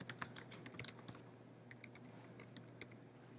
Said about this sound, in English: Scroll down to the text property and type in there